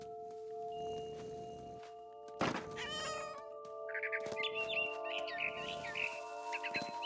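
A cat in What Remains of Edith Finch lets out a loud, drawn-out meow after a sharp thunk, then high bird chirps flutter repeatedly nearby over a steady hum.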